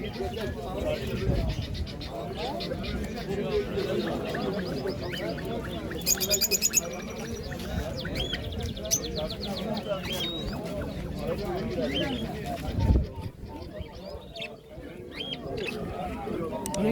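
Caged birds, parrots among them, chirp and twitter at the Edirnekapı bird market, small bright calls scattered through a steady crowd murmur while people bargain nearby.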